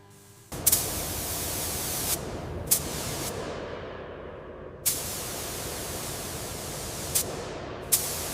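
Paint spraying onto a giant skull model during a ship restoration, a continuous loud hiss from a spray gun with several sharp bursts and pauses as passes start and stop.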